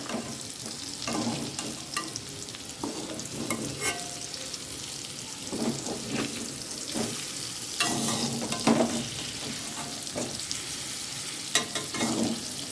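Paneer cubes frying slowly in a pan over a low flame, a steady soft sizzle with intermittent scraping and turning sounds as the pieces are flipped, no talking.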